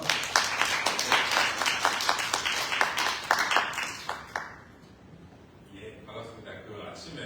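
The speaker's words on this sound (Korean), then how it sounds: "그리프스트 대표님 박수 보시겠습니다." An audience at a lecture applauds a speaker being introduced, a dense patter of clapping that fades after a few seconds as a voice begins talking.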